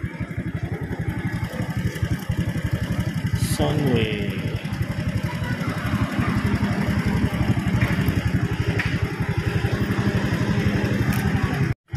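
A motorcycle fitted with new spoke rims idles close by in a steady rapid putter, with a brief rev partway through, while someone talks over the engine.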